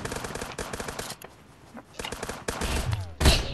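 Pistols fire in a video game, sharp shots in quick bursts with brief pauses, then a louder cluster of blasts near the end over a busy game backdrop.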